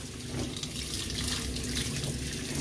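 Water pouring from a tap in a steady, close hiss and splash, continuous throughout with no pauses and no voices.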